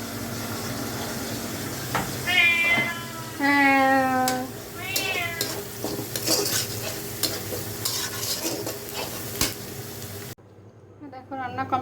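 Small fish fry and sizzle in a pan with a steady crackle throughout, while a cat meows several times nearby and a spoon stirs in occasional clinks, before the sound cuts to near quiet.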